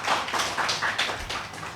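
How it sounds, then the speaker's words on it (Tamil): A crowd at a Tamil devotional discourse claps together, a dense run of overlapping handclaps holding steady for a couple of seconds at moderate distance, with no talk over it. "ஒரு தடவை கைத்தட்டினா போதும்."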